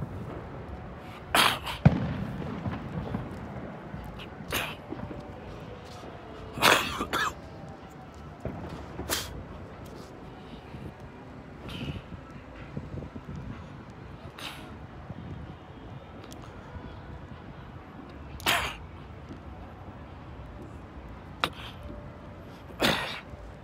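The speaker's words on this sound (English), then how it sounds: "Look at the fireworks from here." New Year 2020 fireworks over San Francisco, heard as sharp booms and pops at irregular intervals, some sounding close and some more distant, over a steady outdoor city murmur.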